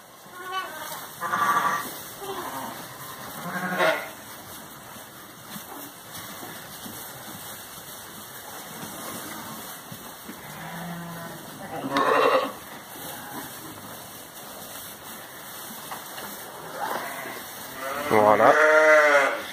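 Ewes and lambs in a lambing barn bleat again and again, some calls near and loud and others fainter, over a steady hum of background machinery. Nobody speaks.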